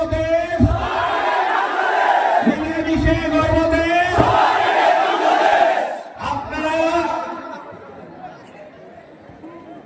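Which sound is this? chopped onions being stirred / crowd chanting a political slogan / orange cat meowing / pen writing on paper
crowd chanting a political slogan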